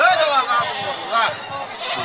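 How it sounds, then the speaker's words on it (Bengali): Several Black Bengal goats bleat with shaky, rising calls amid a noisy goat market hubbub, with people talking close by. "দেখেন আমার চতুর্পাশে খালি ছাগল আর ছাগল"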